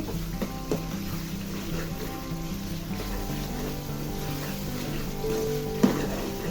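Bay leaves and cinnamon stirred into spices in a pan for a cauliflower chicken curry, a low steady sizzle with soft spatula scrapes and one sharper clink near the end, close and without talk.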